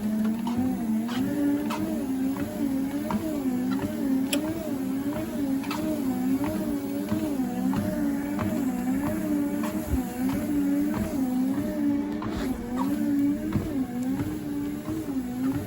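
A treadmill belt runs steadily at its second speed setting, a continuous motor whine with a rhythmic, evenly repeating pulse throughout, close and fairly loud with no talking.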